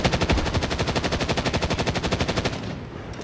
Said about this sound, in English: I put like 50 shots into him